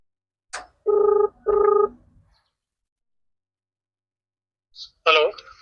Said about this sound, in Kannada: ಏನ್ ಮಾಲಕರಿಗೆ ಫೋನ್ ಹಚ್ಚು ನೀನು